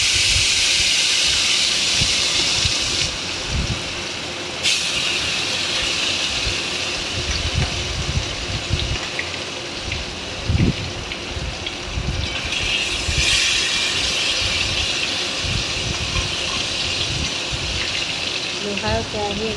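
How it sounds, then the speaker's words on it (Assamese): Turmeric-rubbed fish pieces fry a few at a time in oil in an iron wok, a loud, continuous, close sizzling hiss with small bumps and spatters throughout. "এতিয়া এপিচ এপিচকৈ মই মাছখিনি ভাজি লৈছোঁ।"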